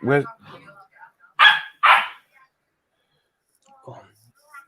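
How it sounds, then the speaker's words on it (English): A couple of sharp puppy barks after a brief voice, then quiet with a faint sound near the end. "stupid bloody puppy better stop barking."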